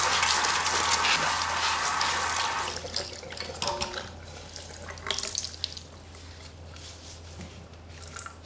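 Tap water runs steadily into a sink while a lace hair system is washed, loud and continuous at first, then quieter with soft squishing and splashing as the hair is handled.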